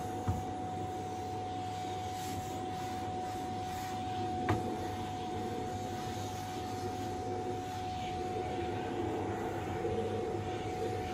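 A Hoover vacuum cleaner runs at full blast indoors at home, a steady, loud motor drone with a constant whine that holds unbroken from start to finish, with no talking.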